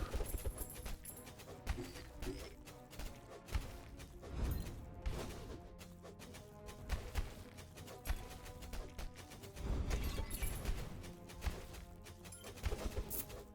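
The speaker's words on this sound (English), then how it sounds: "Okay, so that's what makes that shattering sound." Shattering crashes from combat in the action roguelike game Tower of Babel: Survivors of Chaos burst out in a few loud, sharp hits over a dense, continuous mix of game effects and music, with no talking.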